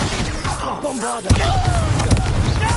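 A Bombarda blasting spell explodes in a Harry Potter video game: a sudden, heavy booming blast partway through, following quieter magical effects and continuing as a loud, dense rumble.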